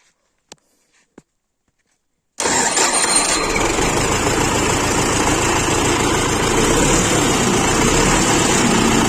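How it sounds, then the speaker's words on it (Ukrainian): A YuMZ tractor engine fitted with a new starter fires up after a few quiet clicks, then settles into a loud, steady diesel rumble that runs without a break, close to the listener. "Встановили стартер, зараз будемо запускати."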